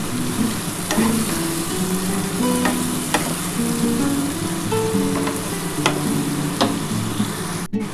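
Mutton and spice masala frying steadily in a pan for mutton dak bungalow, with continuous sizzling and repeated scraping strokes of a stirring spoon, close and fairly loud throughout with no talk.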